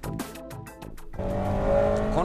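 A Type R car with a specially developed 96 spec R engine runs on a slippery race track, its close, loud engine note building steadily while a rising tire squeal sings over the top near the end.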